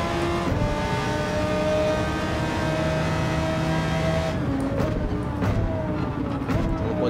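Gran Turismo 7 race car engine running steadily in the game, a sustained loud harmonic drone with shifting pitch as revs rise and fall, a brief sharper change near the end, with no speech over it.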